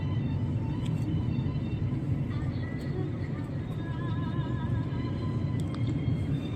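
A car drives through traffic with a continuous low road rumble and engine hum, while horns and other vehicles sound faintly around it and voices talk at times.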